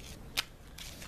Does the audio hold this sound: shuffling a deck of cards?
yes